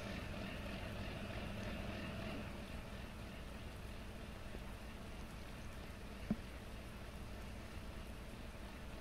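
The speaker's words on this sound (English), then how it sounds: "And time to go through the river." A vehicle drives through a river in Farming Simulator 19, a steady low rumble mixed with broadband water wash throughout, with one brief click near the end.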